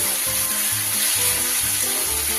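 Ginger, coriander and cumin spice paste frying in a pan for a rohu fish and bottle gourd curry, giving a steady close sizzle with a faint low tonal hum underneath and no talking.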